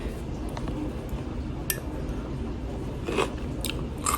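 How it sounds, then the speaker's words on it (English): Crisp crunchy bites into a brined homemade vegetable, several short crunches close to the mic, with faint kitchen clinks in the background. "You hear the crunch? It's crunchy."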